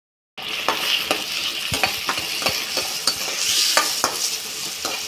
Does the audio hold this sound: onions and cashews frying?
yes